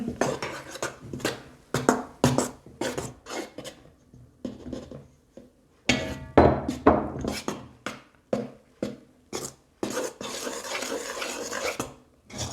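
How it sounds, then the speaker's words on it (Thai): Flour and baking powder being stirred into cake batter in a bowl, a close series of scraping, tapping strokes with bursts and short pauses, no voices. "เสร็จแล้วเราก็ใส่แป้งกับผงฟูจ้ะแล้วก็คน"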